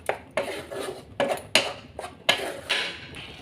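A spoon scrapes and clanks against a pan while green hariyali masala for an egg curry is stirred and sautéed, with about eight sharp metallic knocks and scrapes in an uneven rhythm, close and fairly loud with no speech.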